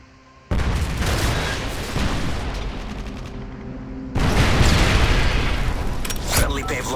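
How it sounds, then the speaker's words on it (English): Predator missile strike in Call of Duty: Modern Warfare 3, a sudden loud blast after a brief quiet opening, rolling into sustained rumbling gunfire, then a second heavier surge of explosion noise with scattered shots. "Friendly Predator missile inbound."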